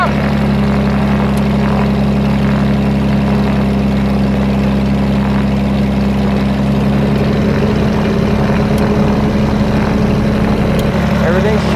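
A propeller airplane engine with a fuel leak idles close by during a fuel pump check, a steady, loud droning hum that holds an even pitch the whole time.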